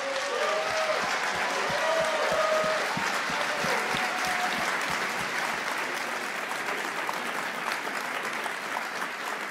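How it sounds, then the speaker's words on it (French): Audience at a general medicine congress opening ceremony applauding to welcome a speaker, a dense, sustained wave of clapping with a rhythmic pulse at first, then steady to the end. "Et je vous demande d'accueillir, évidemment, sous vos applaudissements, le professeur Paul Frappé."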